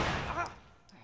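Gunfire in The Last of Us video game, a quick burst of sharp shots fading into echo within about a second, with a voice speaking underneath.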